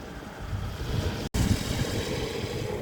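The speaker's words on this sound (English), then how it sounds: "Sorry about the noise, the wind turbine is going like mad." A wind turbine spins fast in strong wind, making a quiet, steady rushing roar with gusty buffeting that drops out for a split second midway.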